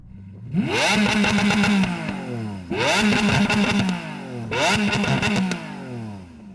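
A powerful car engine revs hard three times, its exhaust roaring up in pitch and falling back between bursts, loud and close.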